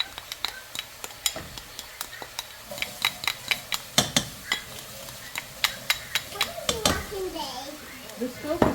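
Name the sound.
onion and garlic frying on a stove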